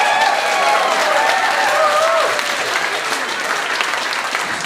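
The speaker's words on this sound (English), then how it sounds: "Please give everybody a big round of applause who've taken part tonight." Audience applause rings out for all the performers at the close of a live competition show, steady dense clapping filling the room for the whole stretch, with a few voices and whistles riding on top.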